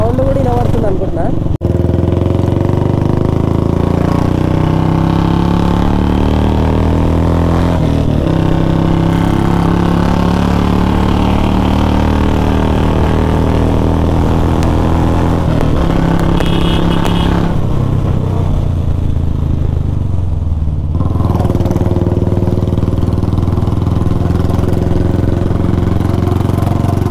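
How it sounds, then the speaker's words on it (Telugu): A Royal Enfield Bullet motorcycle engine runs steadily throughout while riding, a continuous low thumping drone with wind noise, and people talk over it at times. "అండ్ బైక్ సౌండ్ కూడా వినబడుతుంది అనుకుంటున్నా."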